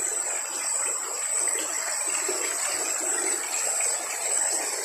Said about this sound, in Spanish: ustedes disfruten del sonido del agua y de los grillos